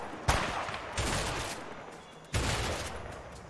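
Shotgun fire aimed at a sniper in the video game A Way Out comes as three booming blasts spaced irregularly, each with a long, noisy tail that fades slowly, heard at moderate distance.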